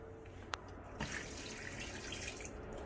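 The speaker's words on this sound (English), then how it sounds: "Now we're gonna add the water." Tap water runs steadily into a cooking pot for chicken soup, a close, continuous splashing rush with a brief clink early on, no talking.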